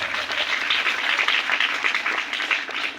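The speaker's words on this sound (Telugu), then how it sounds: "చప్పట్లు కొడతారేమో." An audience at a testimony gathering breaks into applause, dense sustained clapping from many hands running evenly for a few seconds.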